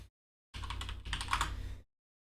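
Close, fast typing on a computer keyboard, a dense burst of key clicks lasting just over a second between stretches of silence.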